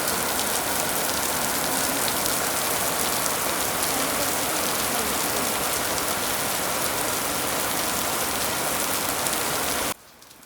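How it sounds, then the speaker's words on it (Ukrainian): Steady, loud downpour of heavy rain hissing continuously nearby, cutting off abruptly near the end. "дощ йде"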